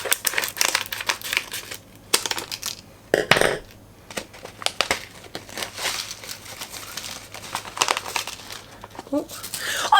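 Crinkling plastic packaging with snips and rustling handling noises, close and fairly loud, continuing throughout the clip.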